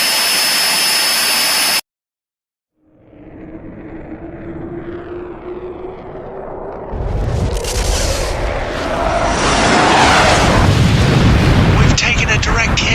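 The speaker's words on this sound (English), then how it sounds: "We've taken a direct hit starboard side." A missile streaks in with a rising jet-like roar after a brief silence, building into a loud rumbling explosion as it strikes a carrier's starboard side in a space combat scene.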